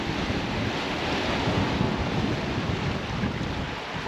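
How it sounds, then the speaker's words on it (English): Strong wind and surf on a Devon beach with the tide going out over seaweed-covered rocks, a steady, loud roar of breaking waves mixed with heavy wind buffeting the microphone, continuous throughout with no voices. "Really feel the wind here."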